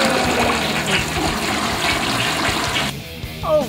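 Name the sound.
toilet flush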